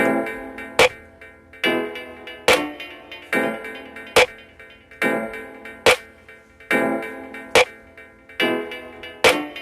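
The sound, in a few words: layered snare and clap drum samples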